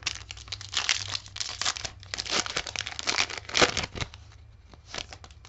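A foil trading card pack for Premier League Prizm soccer cards is torn open and crinkled up close, a run of sharp irregular crackling bursts with quiet gaps and no talking.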